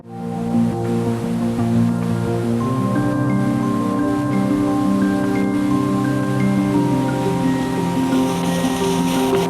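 Drift Creek Falls in January at high, fast flow, heard from a suspension footbridge far above: a steady, dense roar of rushing water filling the whole clip without pause.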